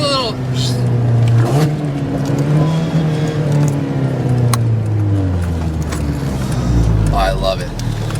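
A small car of about 100 horsepower, fitted with new headers, drives along on a test run, its engine droning steadily with a few light crackles from the exhaust. People talk over it throughout.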